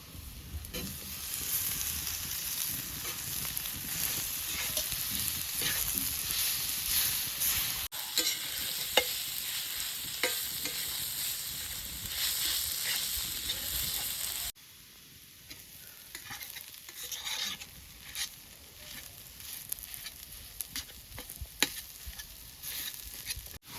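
Spices and chilli frying in a pan as masala for aloo paratha filling give a continuous crackling sizzle with frequent stirring scrapes, close and fairly loud, alone without voices.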